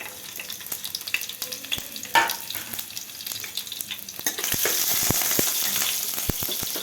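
Chopped green chillies hit hot oil in a pan and fry with a dense, steady crackling sizzle, sharp spatters popping out above it and the sound swelling louder midway, with no voices.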